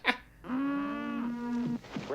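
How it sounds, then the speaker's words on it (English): Cattle in the film Blazing Saddles give a single drawn-out, tonal moo, loud and close, preceded by a brief sharp sound. "Oh, the cows are going to the premiere too."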